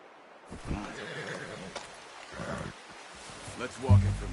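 A horse whinnies and snorts with a few hoof sounds in the open-world western game Red Dead Redemption 2, fairly close and moderately loud, with ambient outdoor game sound underneath.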